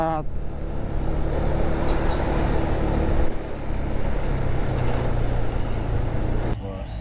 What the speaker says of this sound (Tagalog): Maraming truck.